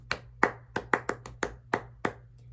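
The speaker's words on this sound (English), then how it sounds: "you always want to clap the rhythm right after you hear it to get it in your brain" Hands clap out a rhythm pattern in a music duration lesson: about ten sharp, close claps in an uneven sequence mixing quicker pairs and longer gaps, with quiet pauses between them and no voices.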